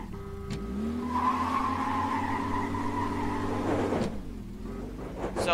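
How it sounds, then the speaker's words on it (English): Muscle car in a racing video game skidding under hard braking, a sustained loud tire squeal with steady engine drone for about four seconds, then easing off into quieter motor hum. "Very squirrely under braking. Spinning its wheels out of control."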